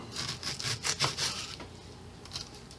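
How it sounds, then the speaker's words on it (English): A knife slicing through a purple onion on a cutting board, a few quick crisp cuts close by, then quieter, with one more faint slice near the end. "all I do to cut my onion is I slice it this way."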